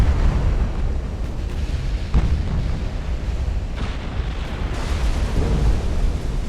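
Torpedo hits on a warship in the naval combat game Ultimate Admiral: Dreadnoughts: heavy, continuous rumbling blasts, loud and close, with several sharper impacts rising out of a dense roar.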